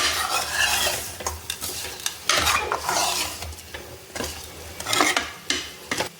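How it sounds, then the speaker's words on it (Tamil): A spoon stirring drumstick vegetable (moringa pod) pieces with salt in a pan for coconut drumstick gravy, giving close scraping and clinking strokes against the metal over a light sizzle, in uneven bursts with no speech. "நல்லா மிக்ஸ் பண்ணிக்கலாம்."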